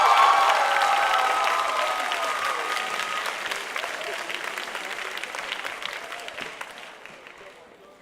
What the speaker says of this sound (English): 是不是给我们的 Daniel 再一个热烈的掌声